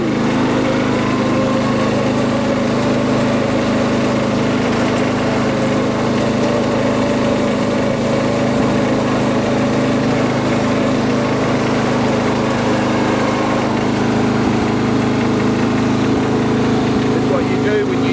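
A Yardman riding lawn mower engine runs at full speed with a steady, droning roar that holds unbroken and loud from start to finish, with no clear talk over it.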